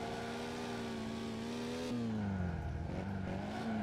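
A car engine drones and revs in the driving game Initial Drift Online, a steady tonal whine that shifts pitch and dips as the car slides through a drift, loud and continuous.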